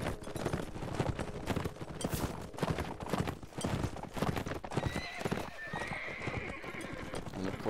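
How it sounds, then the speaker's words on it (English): In Mount and Blade Warband, a horse rears up mid-battle, heard as steady hoofbeats and a loud whinny amid dense combat noise, continuous and busy throughout. "the horse decides to rear up into the air"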